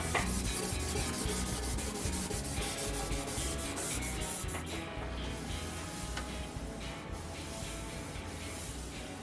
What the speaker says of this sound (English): Now this seems to wet sand really well.